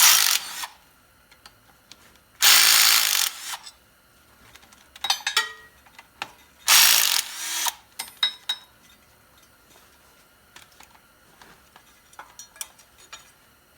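A ratchet spins out 13mm bolts from the front wheel bearing retainer ring on a Dodge Neon, giving three loud bursts of fast clicking between quieter metallic clinks of tools and bolts, close up.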